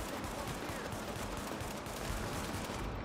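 Sustained gunfire in The Division video game as a player switches to a pistol while being overrun, a dense continuous barrage of shots with no clear pauses.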